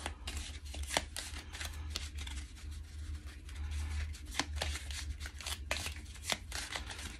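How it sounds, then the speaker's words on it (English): A deck of cards is shuffled in a steady run of crisp riffling and slapping, with sharper snaps now and then over a low background hum and no talking. "So let's shuffle."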